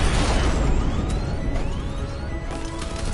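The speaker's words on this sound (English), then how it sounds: "I can use the power boost to trigger a controlled explosion." A loud, sustained explosion of a bomb in the video game Batman Arkham Knight, with a dense roaring rumble and crackling debris, and whistling tones sweeping through the blast.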